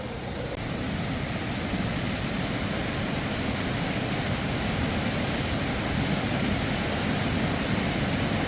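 A bush waterfall and its rapids pour steadily, a dense, unbroken broadband rush that stays level and fairly distant throughout.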